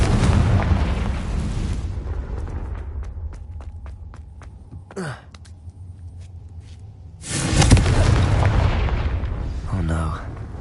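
Confringo explosion spell cast in Hogwarts Legacy, heavy rumbling blasts loud at the start and again later with a quieter crackling stretch between, a deep boom and scattered thuds, no voice over the effects.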